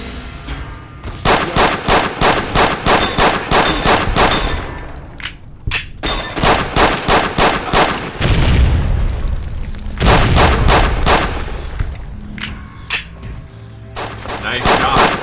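Rapid gunfire in Fallout New Vegas, loud repeated bursts of regular shots with heavy thumping impacts and booms, pausing briefly before resuming.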